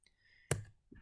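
A single sharp computer keyboard click as the Enter key is pressed in a quiet room, followed by a softer tap.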